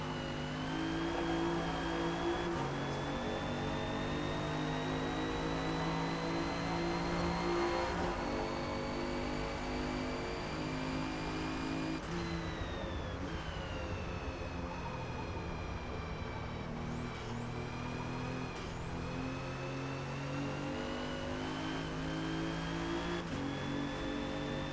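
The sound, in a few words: Alfa Romeo Giulia race car engine in Forza Motorsport video game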